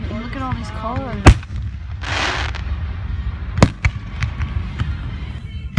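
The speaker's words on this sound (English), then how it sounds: "these fireworks have been going off for a minute" Fourth of July fireworks burst in sharp booms and crackles at irregular intervals, a few loud bangs standing out amid smaller pops, after a brief voice and a whooshing launch.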